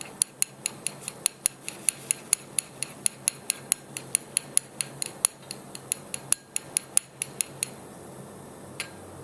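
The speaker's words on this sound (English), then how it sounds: "I'll continue to stir until all the liquid is evaporated" A liquid is stirred in a container over a gas flame until it evaporates, for a neutralisation experiment. Sharp, bright clinks repeat in a quick, fairly steady rhythm close by, then thin out and stop near the end, with no voices.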